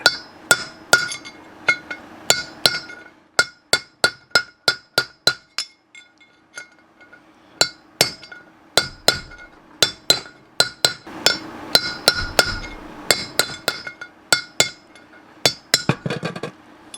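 A hammer striking a steel punch to drive out a camper trailer wheel bearing race, dozens of sharp ringing metallic blows in uneven bursts with brief pauses, close and loud.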